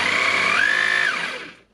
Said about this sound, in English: Now putting on the drilling and hammering and not holding it.